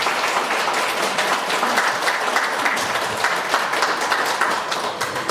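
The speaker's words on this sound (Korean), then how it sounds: "큰 박수로 맞이해주십시오." Applause from an audience at a 2025 university admissions briefing in Daegu, welcoming a guest lecturer to the stage: dense, steady clapping from many hands, close and sustained throughout without talk.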